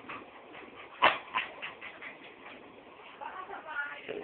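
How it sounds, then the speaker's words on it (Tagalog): Dogs whimper and yip softly in short, uneven bursts, with one sharper yelp early on, close by, while a voice murmurs underneath. "Yan mga aso namin."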